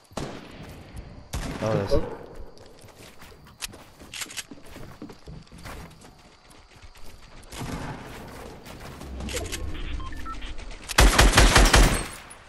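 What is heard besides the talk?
gunfire in the video game Fortnite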